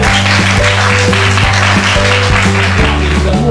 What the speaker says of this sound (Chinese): 大家真的应该给予自己一个热情的掌声